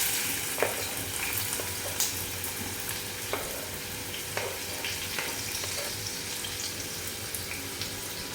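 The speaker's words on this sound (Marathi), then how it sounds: "तेल गरम झालं की मी कांदा टाकते त्यात" Onion sizzles steadily in hot oil in a home kitchen pan, a constant crackling fry with a few louder spits and stirring clinks scattered throughout, close by and with no one talking.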